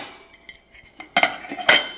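Metal pots and a saucepan from a Uniflame large camping cookset clink and clatter as they are nested together, a few soft taps followed by two louder, brighter metallic clanks close by, with no talking.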